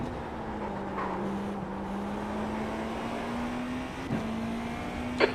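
A steady race car engine drone in an iRacing video game at Daytona, with a sustained droning pitch like cruising, with occasional faint clicks and no talking.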